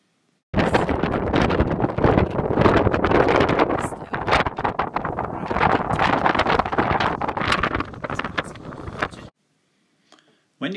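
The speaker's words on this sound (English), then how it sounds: "Buckland Beacon stands at 382 metres above sea level, so you get amazing views, but it is also very windy" Strong gusty wind buffeting the microphone on Buckland Beacon, a 382-metre granite tor on Dartmoor, loud and continuous for several seconds before cutting out abruptly, then a brief quieter gust.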